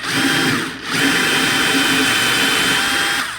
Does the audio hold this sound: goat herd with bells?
no